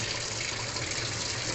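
Mung beans getting washed under a steady stream of running water, a constant close gush and splash that holds an even level throughout with no speech.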